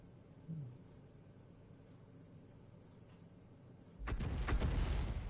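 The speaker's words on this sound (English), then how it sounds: "More rounds coming in from the enemy Arty." Incoming enemy artillery shells in World of Tanks land as a sudden loud rumbling blast with crackling debris after a long quiet stretch of low background hum.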